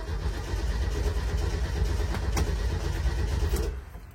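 An old 1973 Volkswagen Type 2 (T2b) van engine cranks and catches, then runs at a steady rough idle for a few seconds before the sound cuts off.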